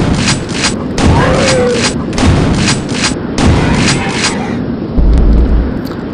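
Repeated blasts of the super shotgun in Quake 2, several heavy booming shots spaced about a second apart over continuous in-game noise, with a louder low thud near the end.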